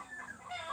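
Hens clucking on a home farm where the chickens lay their eggs, a soft, steady run of close, overlapping clucks with a faint rooster-like call, low in level and with no talking.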